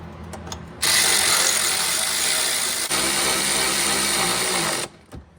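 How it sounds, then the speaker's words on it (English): An air ratchet or power tool whirs steadily for about four seconds while tightening the upper ball joint nuts on a 2000 Chevrolet Camaro, close and loud, with a brief break in the middle and a short trailing clunk. "Just give a quick little turn on each one of those nuts just to be sure."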